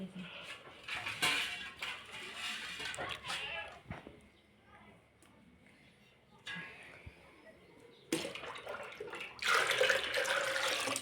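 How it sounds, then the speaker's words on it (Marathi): Fresh buffalo-milk butter being washed with water in a kitchen, splashing and running water with clinks of vessels in bursts, and someone speaking between them. "ही लोणी चांगलं स्वच्छ धुवून घ्यायचं पाण्याने आधी ताक राहिलेलं काढून घ्यायचं सगळं"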